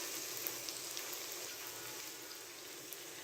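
Mutton added to a pan of fried onions and garlic-ginger paste sizzles and crackles steadily, a soft, even hiss with faint pops.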